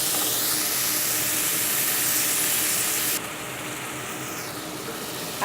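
Chicken pieces fry in a pan for a creamy chicken sopas, giving a steady, even hiss of oil and steam that drops a little partway through.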